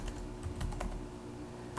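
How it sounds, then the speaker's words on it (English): Quiet, close clicking of keys on a computer keyboard as a web address is typed, a brisk irregular run of keystrokes heard alone. "you're going to type in the web address for the college"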